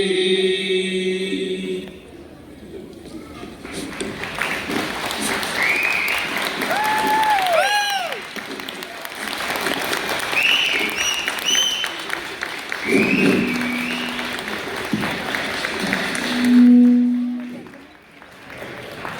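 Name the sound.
audience applause after a children's stage performance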